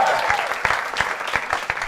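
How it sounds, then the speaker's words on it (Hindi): An audience at a shayari poetry gathering claps for poet Badal Sharma as he is introduced, a lively burst of close applause with a few sharper individual claps, briefly overlapped by a voice at the start. "तालियां बजती रहनी चाहिए बादल शर्मा से"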